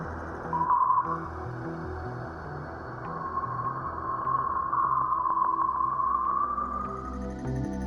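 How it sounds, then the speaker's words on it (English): Sonified solar shock waves recorded by Voyager 1 in interstellar space: an eerie, continuous electronic drone with a rising, whistling tone that swells and wavers over a dense low rumble. "There, it still senses the shock waves emitted by the sun, which sound like this."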